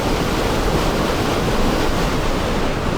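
Roughly two tonnes of water per second rush through a Francis hydroelectric turbine in a steady, dense roar, loud and close, with no variation and no voices.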